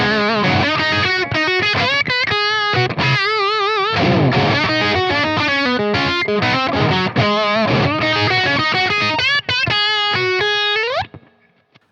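Bluesy electric guitar lead played through a Fractal FM3 amp model at moderate gain, busy bends and quick runs, loud and continuous, ending on a sustained note that fades out.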